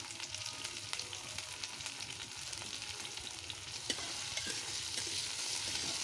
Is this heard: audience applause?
no